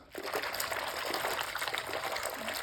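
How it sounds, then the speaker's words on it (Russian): Shampoo is stirred by hand into a basin of warm water for bathing kittens, a continuous close swishing and sloshing of water with rhythmic churning. "В одном размешиваю шампунь и вот так прям,"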